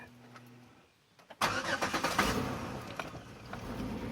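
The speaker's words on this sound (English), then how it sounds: "So I'm gonna start it up for you." A 2005 Chevy Equinox with a broken spark plug cranks and fires after a quiet pause, then settles into a steady, loud idle close by.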